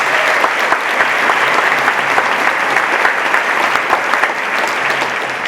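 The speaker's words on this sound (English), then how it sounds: "Let's give these incredible leaders a round of applause" A roomful of people applauding school board members at a school district professional development day, loud, dense, steady clapping throughout with no speech.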